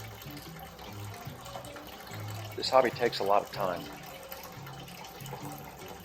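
Wort dribbles and splashes from a squeezed grain bag during an all-grain homebrew mash, a short run of liquid pouring in the middle while someone talks over a faint background hum.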